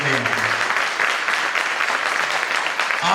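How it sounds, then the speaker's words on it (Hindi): An audience claps for a guest speaker at a motivational talk, in a steady burst of clapping with a voice briefly audible under it at the start and end. "एक बार जोरदार तालियां होनी चाहिए मेरे बड़े भाई मिस्टर रविंद्र कुमार शेट्टी जी के लिए सर"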